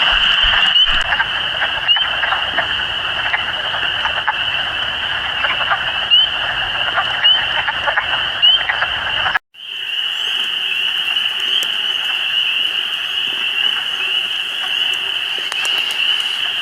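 A dense nighttime chorus of spring peeper frogs calling from trees, with loud, continuous high shrill peeps filling the air, alongside other amphibian calls and a brief cut partway through.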